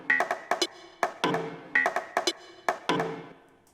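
Hardgroove techno percussion loop, quiet sharp hits in a tight repeating syncopated pattern with bright ringing tones, cycling about twice over a few seconds, alone.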